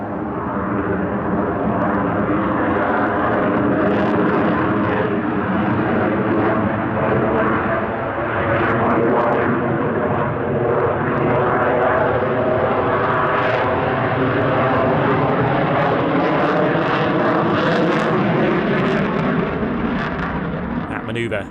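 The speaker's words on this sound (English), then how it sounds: "A classic F-22 manoeuvre now, the pedal turn" F-22 Raptor fighter jet flying a pedal turn at an airshow, at high angle of attack with full rudder and aileron, gives a loud, sustained roaring engine rumble that swells and wavers steadily throughout, with speech over it.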